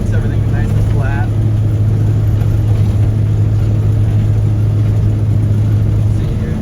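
A Bombi J5 tracked vehicle drives over roots in a swamp to press them flat. Its engine rumbles loud and close in a steady drone, with a brief voice faintly audible early on.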